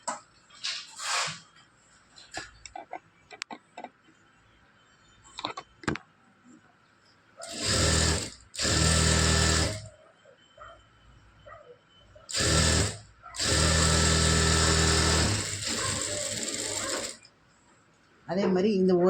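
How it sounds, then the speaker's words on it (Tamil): An electric sewing machine stitches the lining into a blouse sleeve made from poonam saree fabric, running in two loud, close stretches, the second longer, with quieter handling noises and some talk between them. "வச்சுட்டு இப்போ நம்ம அப்படியே ஸ்டிச் பண்ணிக்கலாம்."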